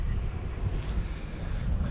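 Steady wind blows across the microphone on a man-made white sand beach, a continuous low rumbling buffet with no other clear sounds.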